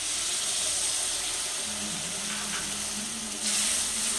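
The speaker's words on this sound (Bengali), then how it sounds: "এবার মশলার বাটি ধুয়ে জল দিয়ে দিচ্ছি" Water hits spice paste frying in a pan while cooking chhana bhujia, a steady hiss and sizzle with bubbling, swelling louder near the end, with no talk.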